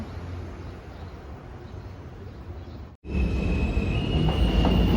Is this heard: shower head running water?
no